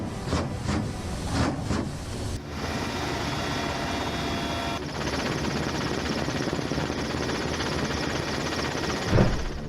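A Russian Mi-28 attack helicopter in flight over Ukraine gives off a steady, droning rotor and engine roar at moderate distance. The sound is broken by a couple of abrupt cuts.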